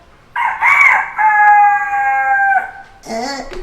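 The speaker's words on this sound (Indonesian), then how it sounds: "Aku adalah ayam jago." A rooster crows loudly and close, one long drawn-out cock-a-doodle-doo with a strained tail, followed by a shorter squawk.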